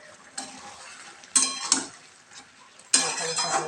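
A metal lid clatters several times as it is lifted from a pan of okra cooking on the stove, each clink followed by sizzling from inside the pan.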